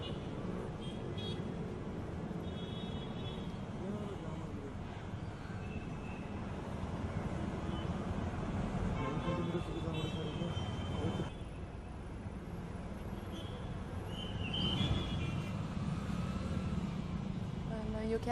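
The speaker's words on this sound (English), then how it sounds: "traffic has come to an absolute standstill" Road traffic sits at a standstill at a busy Bengaluru junction where half the road is cut off for works, producing a steady, dense roar of engines with occasional horn toots, and a voice speaking over it.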